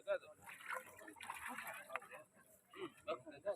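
Water is poured onto plants outdoors, producing trickling and splashing sounds under people talking nearby.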